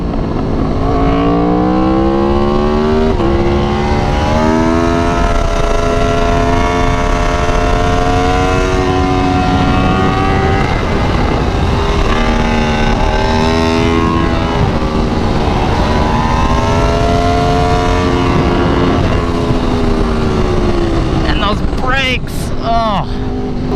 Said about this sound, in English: it's just the sound and the riding experience of this bike.